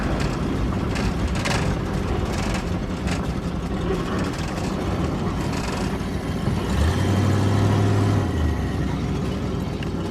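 A 1963 Oldsmobile engine runs on a newly fitted electric fuel pump, a loud, steady close-up rumble that continues throughout with a brief low droning swell near the end.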